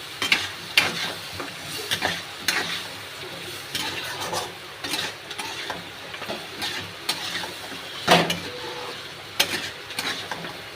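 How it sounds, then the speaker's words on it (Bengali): Boiled mutton being sautéed in a wok, a ladle scraping and knocking against the pan in irregular strokes over a low steady sizzle, close up and without voices. "একটু হালকা কষে নেব, কারণ কড়ার সাথে না লেগে গেছে।"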